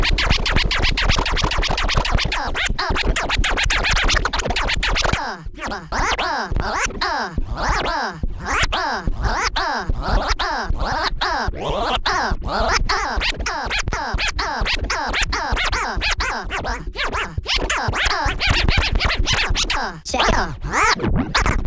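Turntable scratch routine cut on vinyl through a worn Ortofon Concord cartridge, with dense rapid back-and-forth scratches and crossfader chops running continuously over a steady beat, loud and close, the stylus occasionally skipping.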